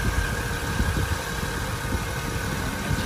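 A Honda Acura's 3.7-liter engine idles smoothly, a steady, even low rumble with a constant hum on top, heard up close and continuously with no voices.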